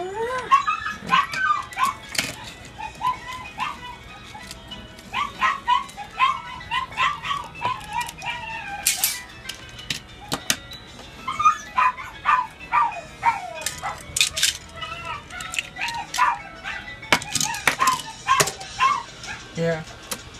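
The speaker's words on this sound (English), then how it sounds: "the dog was barking." Dog barking and yipping repeatedly in bursts throughout, fairly close, heard with other sounds in a kart racing game.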